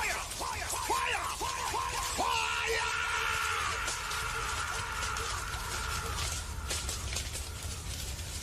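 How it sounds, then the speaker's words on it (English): Protesters at the Democratic National Convention yell and scream together, overlapping shouts rising early and then settling into a rough, distant crowd roar. "Everybody's screaming, thank you, Joe."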